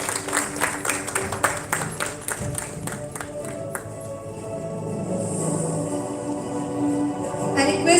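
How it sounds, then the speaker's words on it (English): Audience applause for an achiever stepping onto the dais at a success meet: sharp scattered claps at first, swelling into a broader wash of clapping with a faint tonal hum beneath. "Please give her a huge round of applause."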